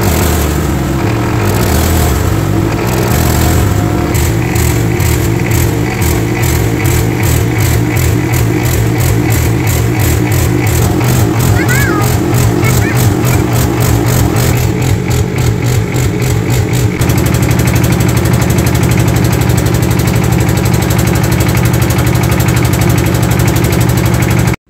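A trawler boat's engine runs loud and steady close by, a continuous mechanical drone with a rhythmic knocking pulse that holds throughout without a break.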